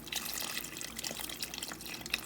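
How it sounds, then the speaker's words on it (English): Water poured into a 32-ounce jug in a home kitchen, a steady splashing, gurgling stream with small drips, close and fairly quiet, with no talking. "I just put some water in this jug"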